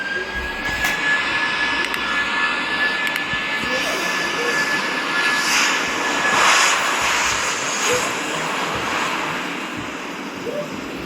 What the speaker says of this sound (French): Wow, l'avion, il fait trop de bruit.